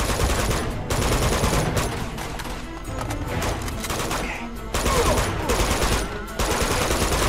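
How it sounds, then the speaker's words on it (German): Enemies firing at the player in the video game Uncharted 2, with loud, close bursts of rapid automatic gunfire in repeated volleys broken by brief pauses. "Da schießt er auf mich."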